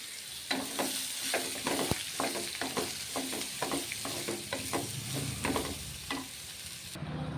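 Bottle gourd pieces frying in a pan on low heat, a continuous sizzle under repeated rhythmic scrapes and taps of a spoon stirring, close and fairly loud.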